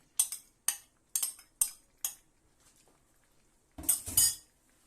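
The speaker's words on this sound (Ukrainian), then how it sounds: "Все гарно перемішуємо." A utensil stirring zucchini salad with tomato paste in a pot, a few sharp metallic clinks spaced apart, then a louder wet scraping mix near the end in a quiet room.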